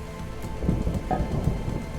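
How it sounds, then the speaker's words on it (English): Rain and thunder in the video game Vintage Story: a steady, dense hiss of rainfall with low rolling rumbles of thunder swelling through the middle, fairly loud and without any voices. "Oh, goody, it's still raining."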